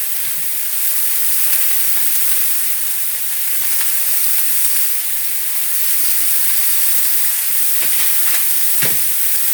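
Porcupine meatballs brown in a pan, a continuous hissing sizzle held at an even level, with a few sharp clicks and knocks near the end and no one speaking.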